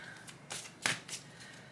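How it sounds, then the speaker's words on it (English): Tarot cards being shuffled close by, a few quiet riffling bursts in quick succession, soft and brief. "I'm shuffling off camera."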